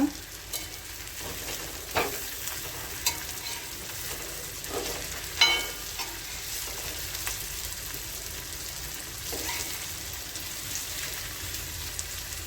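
Tandoori-spiced potatoes frying in a pan, a soft continuous sizzle with occasional clinks and scrapes as they are tossed now and then, heard close and fairly quiet with no voices.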